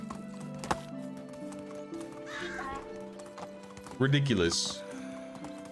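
A horse is ridden in Medieval Dynasty, its hooves clip-clopping steadily underneath, with a loud whinny near the end and someone talking over it.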